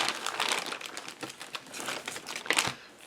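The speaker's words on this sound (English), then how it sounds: "These are cute little cellophane bags" Cellophane bags from a subscription package crinkle and rustle up close in quick, irregular bursts, with sharp crackles near the end.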